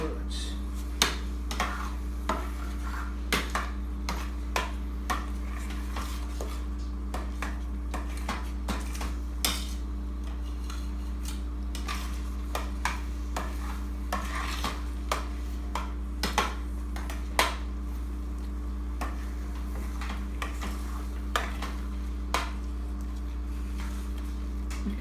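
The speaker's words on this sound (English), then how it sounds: "So I'll be mixing the coriander in it now." A spoon stirring coriander through Punjabi pav bhaji in a pan, scattered clinks and scrapes of utensil against metal over a steady low hum, with short irregular knocks spread through the whole stretch.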